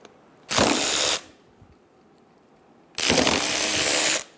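A ratchet with a 14mm socket works on brake caliper bolts on a 2010-2014 Subaru Outback, heard as two bursts of rapid, close clicking, each about a second long, separated by a quiet pause.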